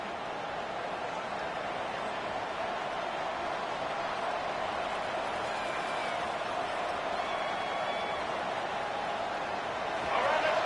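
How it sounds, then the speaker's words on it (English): Stadium crowd noise in the College Football 26 video game during a Michigan timeout, a constant massed roar swelling louder toward the end. "listen to this crowd noise. This stadium is vibrating."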